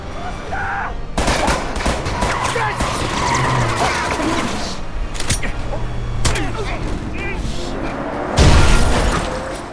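A car chase from an Indonesian crime film about an internet-café kid framed and jailed among mafia: loud, continuous engine roar and rushing noise with repeated sharp bangs and crashes, ending in a heavier impact burst.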